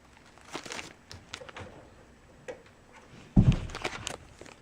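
Faint, scattered crinkles of a plastic bag being handled come in soft bursts, then a louder rustle near the end.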